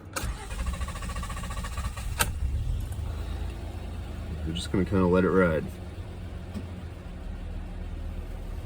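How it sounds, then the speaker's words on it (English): A 2010 Honda Accord after EGR cleaning cranks over briefly and catches, then settles into a steady low idle, with a whirring motor in the middle and someone talking over it. "So I'm gonna go ahead and crank her up."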